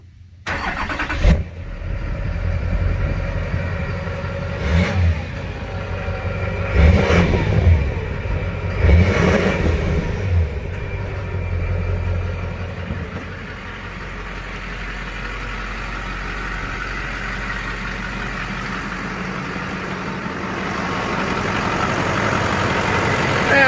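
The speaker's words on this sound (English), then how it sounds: "let's start it up and see how this engine sounds." A 2005 Chevy Duramax diesel truck engine with high miles cranks and catches, revs a few times, then settles into a steady rumbling idle that grows slightly louder toward the end.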